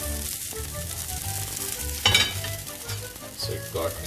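A dosa fries on a hot pan with a continuous close crackling sizzle, punctuated by a few brief sharper scraping or stirring bursts.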